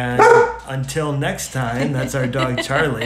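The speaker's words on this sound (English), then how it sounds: "that's our dog" A pet dog barks and yips near a person speaking briefly, the short barks mixing with the voice at close range.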